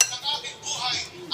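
A spoon stirs kilawin na isda made with tawilis fish and a last sprinkle of black pepper, giving soft scraping and light clinks against a bowl over a brief moment.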